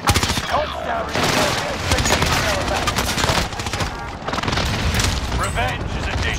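Enemy gunfire in Call of Duty: Modern Warfare: dense, loud bursts of automatic weapon fire with booming impacts, continuous throughout and mixed with shouted voices.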